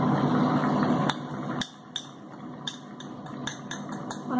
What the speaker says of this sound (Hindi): अच्छी तरीके से मिक्स करेंगे इसको मसाले को।